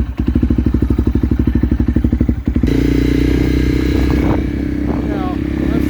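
A used 2016 Honda CRF 250L engine cranks with rapid, loud rhythmic chugging for over two seconds, then catches and settles into a steady, close idle, with a voice briefly heard near the end.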